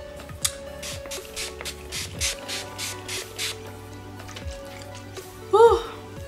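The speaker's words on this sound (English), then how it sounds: "I feel like those were very big sprays" Several short bursts of BH Cosmetics Studio Pro Setting Spray misted in quick succession, each a brief soft hiss, followed by a louder rustle near the end.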